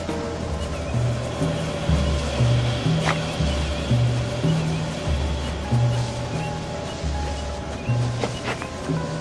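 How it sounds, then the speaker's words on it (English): A waterfall in the video game Shelter gives a steady, continuous rushing wash of water, with soft low musical notes stepping along underneath. "here's a waterfall"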